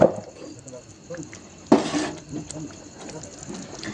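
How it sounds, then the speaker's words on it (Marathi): About half a glass of water is poured into a potato and pea curry in one short, splashy pour midway, amid quiet kitchen background noise. "तुम्हाला थोडीशी पातळसर भाजी पाहिजे असेल तर इथं थोडंसं अर्धा ग्लास पाणी वाढवायचं"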